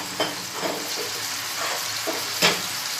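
Chicken breast slices sizzle and crackle in shallow hot oil, a steady close frying hiss with a few sharper pops and stirring scrapes, no voices.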